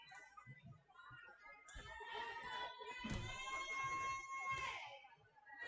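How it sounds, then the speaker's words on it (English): Crowd at a Cotter versus Flippin senior girls' high school volleyball match in a gym, cheering and calling out to pump up the trailing home team, with shrill voices and whoops rising over a steady, echoing din. "this Flippin crowd trying to get their team pumped up"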